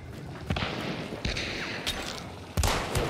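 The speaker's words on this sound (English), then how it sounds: "I hit him with an incendiary shot." Rifle shots in Hunt: Showdown, incendiary rounds fired in a tense shootout: several sharp, loud gunshots spaced irregularly across a few seconds, each with a brief echoing tail over low ambient rumble.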